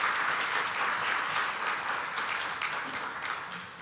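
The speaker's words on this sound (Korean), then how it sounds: "다시 한번 뜨거운 박수 부탁드리겠습니다" A luncheon energy-forum audience applauds a presenter, a broad, even wash of clapping that stays loud and steady throughout before dipping slightly at the end.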